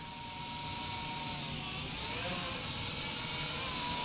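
A Holy Stone HS270 GPS drone flies with a steady, continuous propeller whine and motor hum throughout, fairly loud and slowly rising in level, with no speech.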